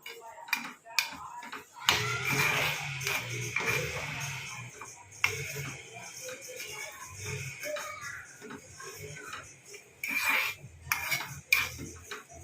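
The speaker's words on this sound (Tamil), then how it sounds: "மிக்ஸ் பண்ணி விட்டுகிட்டே இருங்க கிண்டி விட்டுக்கிட்டே இருக்கலாம்" Avuri leaf hair oil being stirred in a pan, with repeated scraping and clinking of a metal spoon against the pan in uneven bursts and pauses, fairly close and moderately loud.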